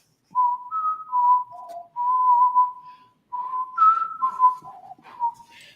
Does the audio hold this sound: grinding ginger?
no